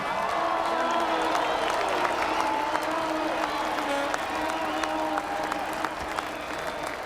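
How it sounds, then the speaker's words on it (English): A stadium crowd applauds and cheers for the Otago rugby team at the 2001 NPC Division One final against Canterbury, a steady, roaring wash of clapping and crowd noise that holds throughout. "a big round of applause, please, for the Otago team here tonight"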